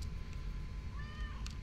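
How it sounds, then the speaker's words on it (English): A cat in the video game The Stairway gives a short rising meow partway through, heard over a steady low background rumble of game ambience. "I'm sure I have to pet the cat each time too"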